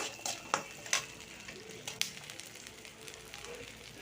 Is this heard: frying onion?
yes